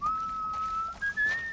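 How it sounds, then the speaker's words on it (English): A single sustained whistle from a character in The Last of Us Part I Left Behind, one long close tone that steps up slightly in pitch near the end, with no talking. "Whistle?"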